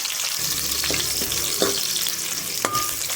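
Ingredients for a modakathan greens gravy sautéing in oil, a continuous close sizzle broken by a few sharp scrapes and taps of a spoon against the pan, with no talking.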